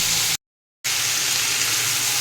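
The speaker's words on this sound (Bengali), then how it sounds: "চলো এটা ততক্ষণ ভালোভাবে ভাজা ভাজা হয়ে যায়" Vegetables for a jackfruit-seed vegetable curry sizzle and crackle steadily in a hot pan, a loud continuous hiss that cuts out briefly to silence before resuming.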